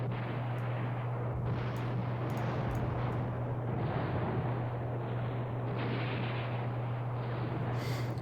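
Distant artillery fire rumbles continuously through a Command Ops 2 World War II battle near Bastogne, a dense, steady roar of explosions with a low constant hum beneath and no voices.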